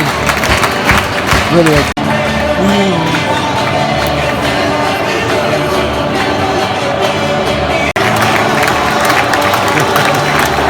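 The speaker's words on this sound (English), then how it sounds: "applause from the Palace fans" Crystal Palace fans in a football stadium after a 3-0 win over Norwich, a large crowd applauding and cheering as a continuous roar, with someone talking close over it throughout.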